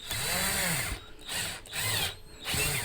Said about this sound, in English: Now, if you have your drill going in the right direction,